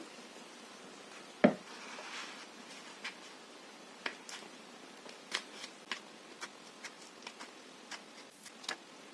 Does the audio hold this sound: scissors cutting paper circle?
yes